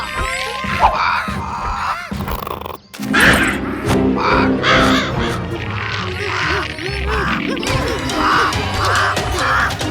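A cartoon crow in a Chhota Bheem Halloween episode gives a string of loud, harsh caws in a rhythmic run, voiced by a performer imitating the bird, over busy background effects and music.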